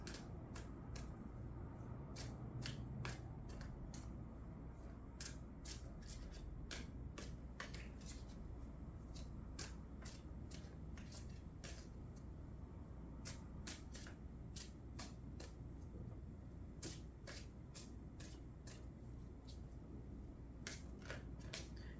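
Tarot cards are shuffled softly and steadily, with faint papery flicks and taps repeating in a loose rhythm over a constant low background hum.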